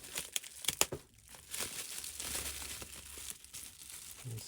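Small plastic bag from a lux meter box being handled, giving close, irregular crinkling and rustling bursts that come and go for several seconds without talk.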